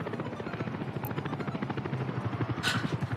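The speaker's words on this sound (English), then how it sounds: "That's our helicopter there." Helicopter in Workers & Resources: Soviet Republic, a steady rapid rotor thumping with a whining engine hum, close and continuous, growing slightly louder toward the end.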